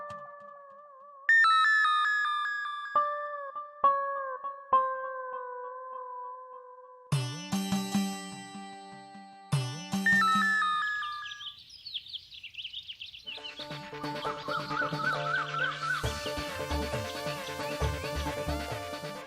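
A mobile phone rings with a melodic electronic ringtone, bright chiming notes repeating in bursts, then shifting into a fuller synthesized tune, loud and close with no talk.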